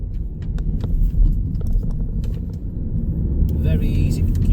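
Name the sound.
Kia Ceed 1.6 CRDi car driving, interior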